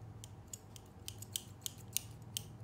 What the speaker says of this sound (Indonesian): Ini aku ngapain ya membawa gunting?